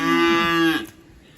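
A hungry cow gives one loud, close, sustained moo before feeding on a rainy, wet farm, and the call cuts off into quiet outdoor ambience.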